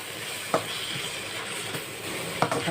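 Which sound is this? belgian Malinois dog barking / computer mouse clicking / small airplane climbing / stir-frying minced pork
stir-frying minced pork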